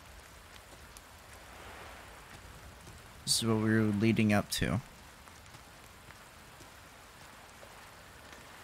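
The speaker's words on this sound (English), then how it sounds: "Yeah, here's the rain effects." Steady rain falls in the video game Resident Evil 4 Remake as a soft, constant patter in the background, while someone speaks briefly over it midway.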